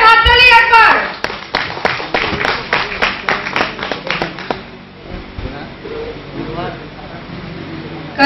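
A crowd claps for a Class Eight essay prize winner at Parokata High School, a burst of rapid, close applause that fades out after a few seconds, opened by a speaking voice and with faint voices after.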